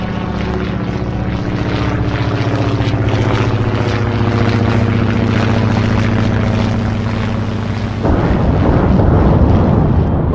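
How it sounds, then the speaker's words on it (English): Bomber propeller engine from the naval strategy game Atlantic Fleet, a steady loud droning hum with layered harmonics held for about eight seconds, then giving way to a rougher, noisier roar to the end. "Let's see if we can hit him with the bomber here."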